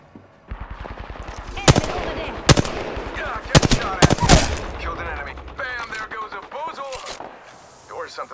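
Gunfire in the video game Apex Legends rattles as close automatic bursts with sharp loud single shots mixed in, while voices talk over the shooting.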